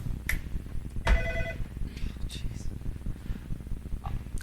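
A telephone rings once in a radio studio, a short, bright electronic trill that cuts in briefly while people keep talking over it.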